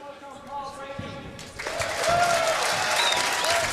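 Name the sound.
applause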